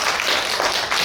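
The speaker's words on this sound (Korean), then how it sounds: "큰 박수 부탁드리겠습니다" Audience applause at a youth climate-change debate competition, a loud even wash of many hands clapping together, sustained throughout with slight swells.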